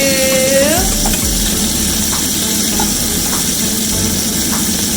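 Steak searing in a pan with garlic, a loud continuous sizzle close up, with a brief whistling tone near the start and no voices.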